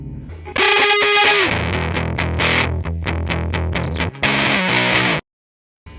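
Electric guitar played through a cheap $3 distortion pedal with the gain turned up, giving loud, heavily clipped, buzzy chords and notes that ring and change steadily before cutting off abruptly near the end.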